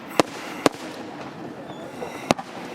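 Fireworks at an outdoor display in Portland: three sharp, loud cracking bursts, two close together and one a couple of seconds later, over a noisy crowd background.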